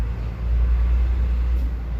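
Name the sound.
truck passing by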